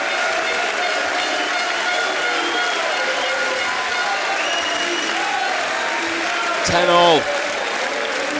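Crowd at a European Championship table tennis match applauds and cheers in a steady, sustained wash of clapping, with a commentator talking over it and a brief swell near the end.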